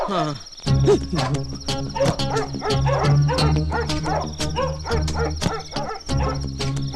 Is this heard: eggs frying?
no